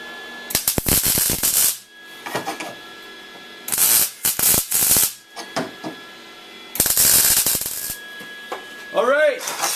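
Nut being threaded by hand onto a steel leg base plate for a banquet table build, giving bursts of rapid ratcheting, clicking metal chatter separated by short quiet gaps, close and fairly loud.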